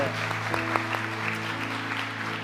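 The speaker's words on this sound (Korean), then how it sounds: "박수 한번 합시다." Congregation clapping at a Korean Friday late-night prayer service, a soft, steady patter of many hands over a sustained low organ or keyboard drone.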